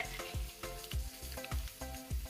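Chopped boiled egg whites sizzle and fry in a hot pan for an egg fry, with steady crackling and a few soft stirring scrapes recurring at a regular rhythm, close and fairly quiet.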